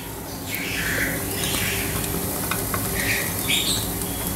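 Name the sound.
onions frying in butter in a pan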